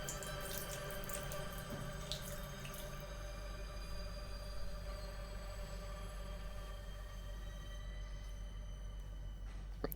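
Tap water runs steadily in a sink in the FMV horror game Morph Girl, a faint continuous hiss that quiets partway through, ending with a brief sharper sound.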